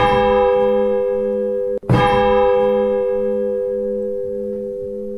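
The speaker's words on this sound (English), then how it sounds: "I think that's the only striking bell." A striking church bell in the Roblox game Odenthal rings with a sustained metallic tone, struck again at about two seconds and then slowly decaying, heard alone.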